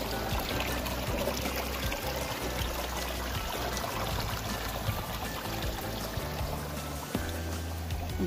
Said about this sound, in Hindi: ये देखो चोता नदी, बहुत ही फ्रेश पानी है यहाँ पर।